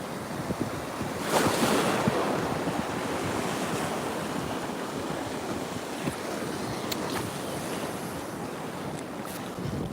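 Ocean waves wash onto a beach in a continuous rushing surf, with gusts of wind buffeting the microphone and a slight swell in loudness early on; no voices are heard.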